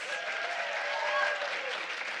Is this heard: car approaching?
no